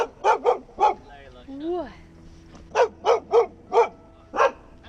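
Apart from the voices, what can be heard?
dog barking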